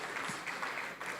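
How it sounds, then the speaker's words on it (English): Brief applause from an audience for panelists at a dialogue forum in Abuja, a soft, steady patter of clapping heard only for a moment. "Please, let's give them a round of applause again."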